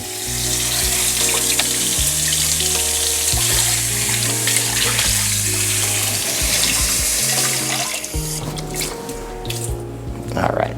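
Hot water runs from a tap for a baking recipe, a loud, steady splashing rush lasting several seconds beneath tonal background music and a speaking voice.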